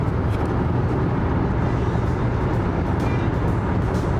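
A Toyota Corolla cruises along a flat Illinois highway, heard from inside the cabin. Dense, steady road and engine roar holds at an even loudness throughout, with no voices.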